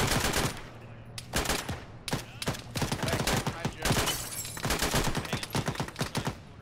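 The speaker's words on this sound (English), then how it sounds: "I shot one in the head." Rapid bursts of gunfire ring out in the military shooter game Arma during a ShackTac squad session, sharp cracks firing in irregular clusters and volleys, loud and close, with the odd short gap between strings of shots.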